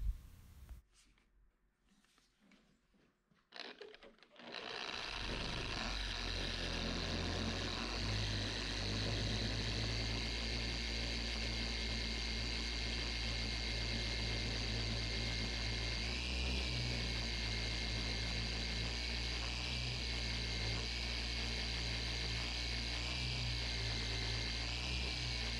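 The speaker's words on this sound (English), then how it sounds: "Let's grab the polisher with the 15mm throw." A dual-action car polisher with a 15mm throw starts after a few quiet seconds of handling, then runs as a loud, steady motor hum with a faint wobble in pitch.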